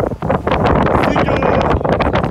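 Strong wind in Iceland buffets the microphone outdoors, producing a loud, rough rumble with gusty bursts that pulse unevenly throughout.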